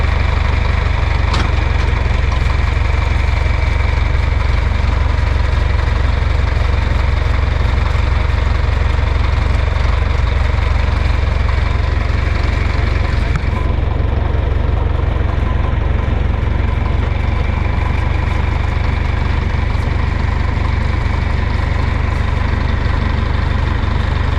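A tractor engine idles steadily throughout during a watermelon harvest, a loud continuous low rumble with vibration and no clear change in pace.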